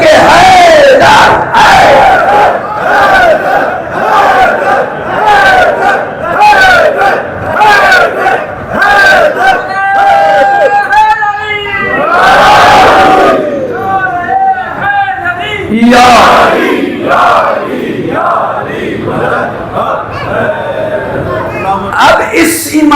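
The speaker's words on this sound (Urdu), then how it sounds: "یہ دونوں ہاتھ بلند کر کے حیدر" A large religious gathering during Muharram majlis loudly chants Haider in unison with raised hands, sustained rhythmic crowd voices filling the whole stretch, close and intense, rising in repeated surges.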